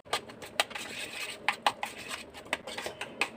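Carrot raita being stirred with thick curd, salt and cumin powder in a bowl, giving a series of close, quiet spoon clinks and scrapes at an irregular rhythm.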